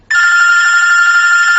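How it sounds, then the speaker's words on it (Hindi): A telephone rings loudly and steadily, one unbroken electronic tone that starts abruptly and holds with no one speaking. "फोन बज उठता है।"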